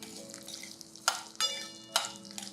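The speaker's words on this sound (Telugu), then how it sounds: "వీటన్నిటిని నూనెలో వేయించేసేయండి." Urad dal, coriander seeds and cumin fry in oil with a quiet crackle, broken by a few sharp utensil scrapes and clinks while the pan is stirred.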